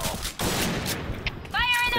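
Shots fire from a 1st Anniversary gun in Point Blank: a rapid string of sharp, punchy shots, close and fairly loud, followed at the end by a brief voice.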